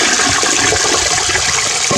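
An old toilet loaded with golf balls flushes in one loud, rushing surge of water, close and continuous with no talking.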